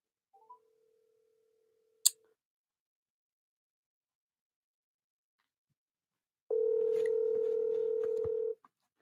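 A single long ringback tone of an outgoing phone call plays loudly and steadily for about two seconds, after brief dialing beeps and a click.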